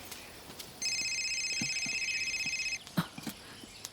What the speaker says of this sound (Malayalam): ആരാണ്ട് വിളിക്കുന്നു. അത് എന്റെ ഫോണാ